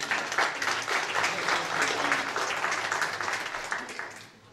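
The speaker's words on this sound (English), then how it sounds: "Can we just give a hand clap not only to the worship team," Church congregation applauding during a Sunday service, a dense wash of hand clapping that holds steady, then tapers off toward the end.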